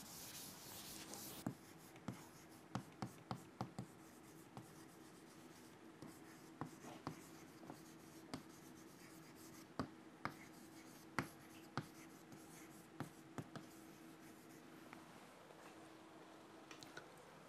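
Chalk or marker drawing a wire drawing diagram on a lecture board, repeated sharp taps and rubbing strokes, close and clear against a faint steady hum.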